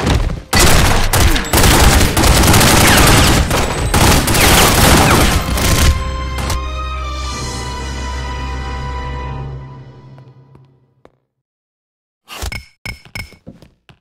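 Dense, loud gunfire fills a shootout in The Godfather video game, rapid overlapping shots for several seconds that trail off into ringing echoes, then a few scattered bursts after a brief silence.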